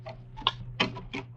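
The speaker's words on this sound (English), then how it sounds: "I sat alone in the office, listening to the clock" An office clock ticks steadily as a sound effect in a 1948 radio drama: a few even, dry ticks at a slow regular pace over a faint low hum, with no voices.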